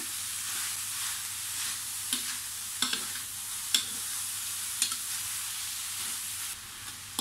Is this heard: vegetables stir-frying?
yes